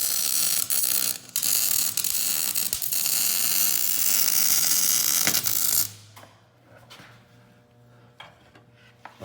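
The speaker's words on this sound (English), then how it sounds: "Upside down welding." Overhead welding on a clamped saddle bracket in a garage, a dense continuous crackle and buzz of the arc for about six seconds, then it stops, leaving a low hum and scattered faint clicks.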